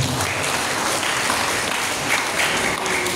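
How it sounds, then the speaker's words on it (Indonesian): Seminar audience at a university faculty event clapping together: a steady, fairly loud wash of applause lasting a few seconds with no clear speech. "Kita tepuk kita semua."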